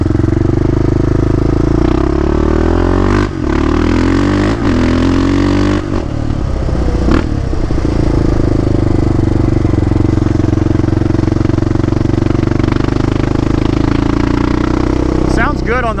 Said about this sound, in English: when I was just sitting there revving it, it was popping and backfiring.